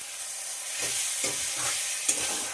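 Chicken is stir-fried over medium heat in a pan, with a continuous hiss of frying and rhythmic scraping strokes of a spatula every half second or so, plus a small clink near the end.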